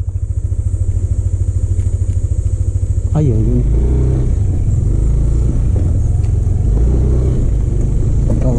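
A motorcycle engine beside a river idles with a steady, close, pulsing putter, then revs up into a louder continuous rumble as it gets moving, with people talking nearby.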